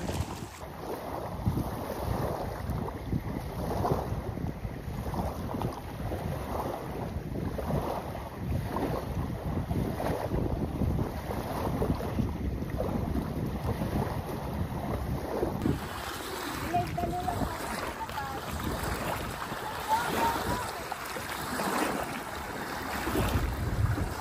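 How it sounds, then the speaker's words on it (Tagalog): Steady, heavy wind buffeting the microphone outdoors near water, a constant rushing roar with wave and boat noise underneath, no voices. "Yun nga lang malakas pa hangin."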